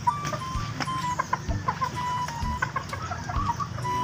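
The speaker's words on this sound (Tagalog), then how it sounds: "Ay manok." Chickens cluck in short, scattered bursts against a low background rumble, fairly close and moderately loud, with no talking.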